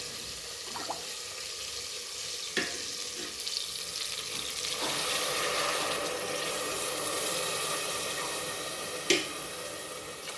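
Water is poured into a pan of sizzling pongal mixture, a steady frying hiss and splashing that swells and holds, punctuated by a few sharp clinks of utensils.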